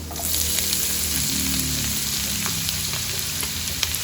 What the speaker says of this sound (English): Now add in the chopped onions